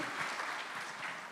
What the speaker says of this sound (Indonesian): Kasih tepuk tangan sekali lagi.